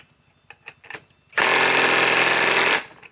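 A Harbor Freight Hercules Gen 2 compact 1/2 inch cordless impact wrench, model HCB84B2, runs in one loud, steady burst of rapid hammering lasting about a second and a half, after a few soft knocks and handling sounds.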